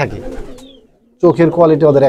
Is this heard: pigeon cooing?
yes